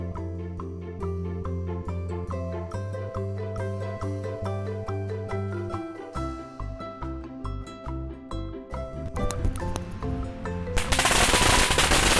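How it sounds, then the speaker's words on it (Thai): Firecrackers set off at a Thai temple start as scattered crackles beneath tonal music, then build into a loud, dense, rapid string of bangs that dominates the final seconds. "ตอนนี้เรากำลังจะไปจุดประทัดให้เราดัง ๆ ด้วยกันไป"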